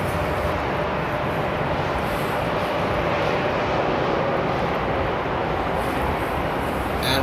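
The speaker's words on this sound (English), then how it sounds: "And our third takeoff is coming." An airliner takes off at Amsterdam Airport, its engines a loud, steady jet roar that fills the whole stretch without a break.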